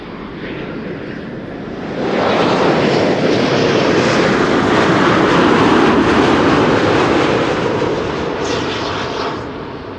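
An eight-year-old airliner, registration PH-BHC, at Schiphol Airport, heard as a loud, steady engine roar that swells after a quieter start, holds broad and full, then eases slightly near the end, with no talk.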